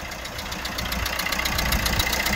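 A Citroen Nemo van engine idles steadily with a low, rumbling drone and faint rhythmic knocking, growing slightly louder toward the end, with no voices.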